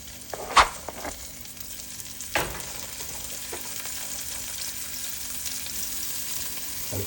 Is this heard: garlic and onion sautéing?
yes